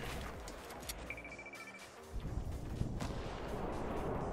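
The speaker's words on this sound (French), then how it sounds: "Je sais pas d'où ça tire en fait." Gunfire in a video game, with heavy booming shots and sharp cracks against a dense rumbling background of battle noise, with no talk.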